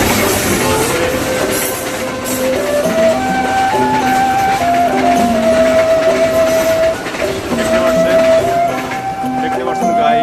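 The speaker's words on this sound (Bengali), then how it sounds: "কত সুন্দরভাবে টানেলের উপর দিয়ে ট্রেন চলে গেল" A train crosses over the Doramara railway tunnel, built in 1913, with a loud, steady rumble and rattle of wagons throughout and drawn-out tonal horn-like notes rising and falling above it.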